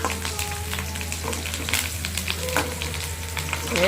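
Chicken curry ingredients fry in a pan with a steady close crackling sizzle, brief stirring scrapes and a low hum underneath, no voices.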